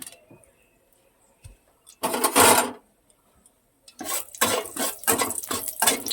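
Whole dried chillies hit hot white refined oil in a pan, giving a loud sizzling burst, a quiet pause, then a longer stretch of crackling, spitting frying near the microphone.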